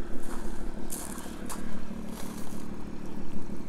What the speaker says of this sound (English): This one has got the race exhaust mode, so you can actually press the button and it opens up some valves in the exhaust itself to make it louder